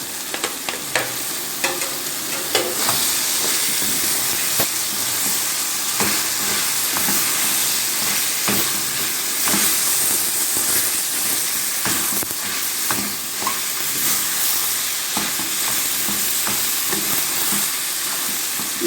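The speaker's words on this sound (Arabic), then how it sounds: "هو بس ياخد التشويحه بس مع الشاورما" Marinated shawarma sautéed with onions and peppers in a pan gives off a loud, constant sizzle and hiss, broken by repeated scraping stirs nearby, with no voices.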